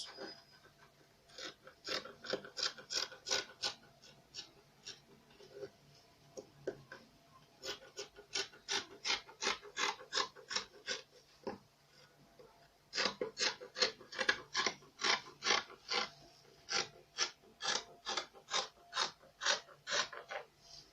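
Scissors cut fabric for a khimar with quick, regular snips in three long runs and short pauses between them. The sound is close and fairly quiet, with no talking.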